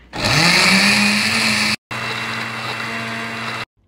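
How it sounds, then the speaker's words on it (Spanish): Blender puréeing roasted tomatoes runs loudly in two bursts, a high whirring motor with a steady hum, stopping briefly in the middle and then cutting off at the end. "ya que están rostizados nuestros jitomates así te tienen que quedar los vamos a licuar y lo licuamos bien licuado"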